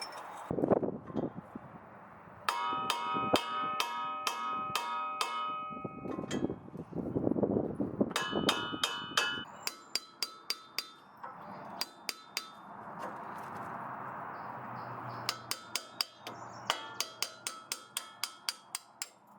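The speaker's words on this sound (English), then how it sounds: "So I'm gonna hammer it." Rapid bursts of sharp metallic hammer blows striking a metal chisel during a Nissan ball joint removal, ringing clanks in quick clusters with short pauses between, close and loud.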